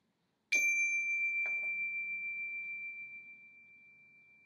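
A single strike on a classroom chime rings with a bright, pure tone. A faint second tap follows about a second later, and the ring then decays slowly in a quiet room.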